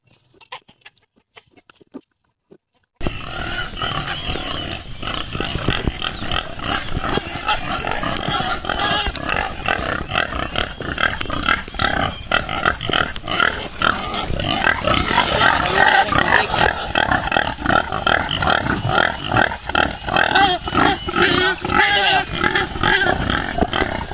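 Farm pigs grunt and squeal continuously in a loud, dense chorus that starts abruptly after a few seconds of near-quiet.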